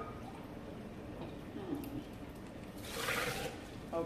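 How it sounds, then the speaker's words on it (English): Water poured from a cup into a blender full of soup ingredients, a soft broadband splash swelling near the end of the clip over faint background noise. "I'm going to add 2 cups of water."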